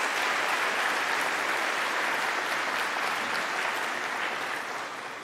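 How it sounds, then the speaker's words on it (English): Steady, dense applause from a large audience at a Hillsborough County introduction event, loud and continuous throughout with no voices over it, easing slightly toward the end. "let's all give him a really big round of applause"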